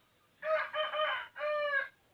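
A chicken on a farm gives a single loud, close crow in two harmonic bursts, alone against quiet.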